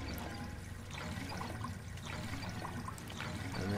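Water draining in a water pressure gauge puzzle in the Lego Batman video game, a steady gurgling, trickling flow that runs continuously at moderate volume.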